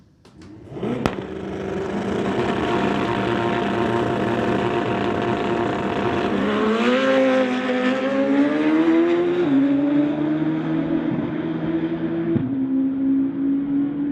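A drag racing motorcycle launches hard down the strip, its engine roaring loud and steady with rising revs and gear shifts over about fourteen seconds.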